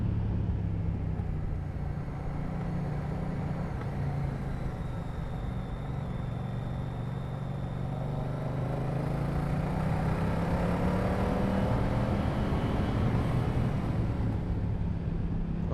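A Moto Guzzi V100S Mandello motorcycle accelerates hard with quickshifter gear changes, its engine a steady loud rumble under heavy wind noise, pitch rising and dropping slightly through the shifts.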